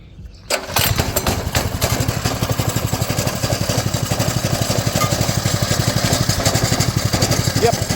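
A 200cc go-kart engine, its clutch faulty so the wheels keep turning, pulls into life after a brief quiet start and settles into a loud, steady, rapidly pulsing idle that runs alone and close by.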